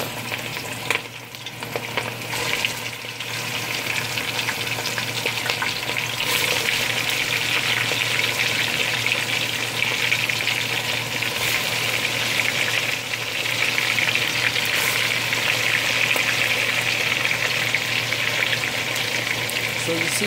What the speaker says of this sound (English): So I'm gonna start frying the meatball now.